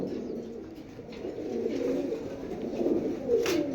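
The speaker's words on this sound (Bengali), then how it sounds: "টপ কোয়ালিটির কবুতর, দেখার মতো" Racer pigeons, including checker and pipe hens, give soft, low rolling coos close by, a steady murmuring burble that swells slightly toward the end with no speech.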